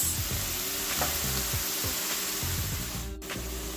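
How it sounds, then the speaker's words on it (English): Roasted red peppers are stirred into a sizzling one-pan pasta with sausage and strained diced tomatoes, giving a steady close frying hiss broken by repeated scraping strokes of the spoon against the pan. "Stir in the roasted red peppers."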